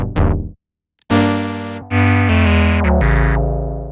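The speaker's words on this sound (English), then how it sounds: "Probably the most analog sounding synthesizer I could find" A Monarch analog-style synthesizer plays a few sustained, buzzy, distorted notes, loud and close, with a brief gap of silence between phrases and sharp changes in pitch.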